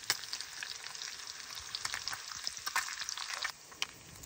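Bacon frying in a pan, a close, continuous crackling sizzle with frequent small pops and spatters, fairly quiet and alone, easing slightly near the end.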